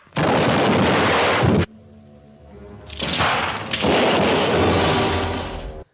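Gunfire from a shootout in a classic Western film, loud blasts ringing out in two heavy bursts with a quieter stretch of lingering echo and rumble between them.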